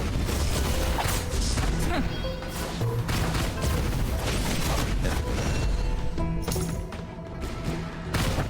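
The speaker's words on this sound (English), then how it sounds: "Whole lot of explosions." A dense barrage of explosions and crashing impacts from the video game Realm of Ink, packed with booms and clattering hits that run continuously and loudly.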